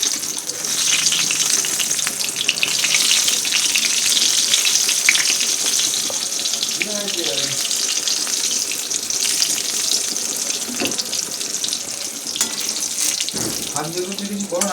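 Eggplant slices frying in hot oil in a home kitchen, a steady close sizzle running throughout with a few brief clatters and soft voice-like bursts near the end.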